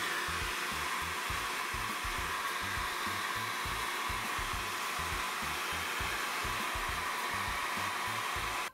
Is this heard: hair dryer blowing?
yes